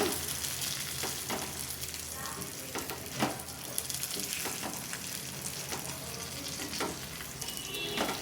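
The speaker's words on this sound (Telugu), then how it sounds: "కారం అనేది చక్కగా రెండు నిమిషాల్లో ఫ్రై అయిపోతుందండి" Chili powder frying in oil with eggplant, an even, close crackling sizzle throughout, with rhythmic spatula scrapes and stirs layered on top.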